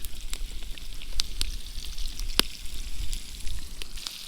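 Brook trout and scattered pickles fry in a pan over an outdoor fire by a high alpine lake, giving a steady close sizzle broken by small crackles and pops.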